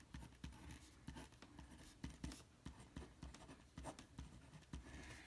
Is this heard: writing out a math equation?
yes